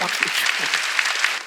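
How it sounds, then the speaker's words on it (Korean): Church congregation clapping during a Sunday worship service, a short burst of dense applause with some rhythmic, uneven claps and a voice faintly underneath. "박수 치려면 박수"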